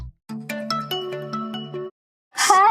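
A mobile phone ringtone plays a short tuneful melody of about a dozen notes, loud and close, then a brief voice comes in after it stops.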